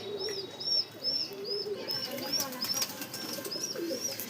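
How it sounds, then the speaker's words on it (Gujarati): Pigeons coo softly in a repeating series of short calls, fairly close but quiet, over a low background hiss. "હું તમને બતાવીશ નવા કબૂતરો મારા"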